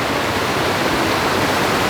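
A Dartmoor waterfall pours with a steady, even roar of rushing water, close and constant, with no voices over it.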